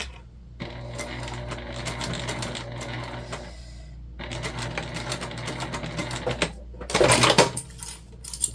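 A sewing machine stitches zipper tape in two sustained whirring runs split by a short pause, followed by a brief clatter of handling near the end, all close up with no speech.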